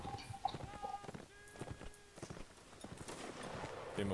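Horse hooves clip-clopping in a Napoleonic Wars line battle of the Mount&Blade Warband video game, a quick run of hoofbeats over steady battlefield game noise.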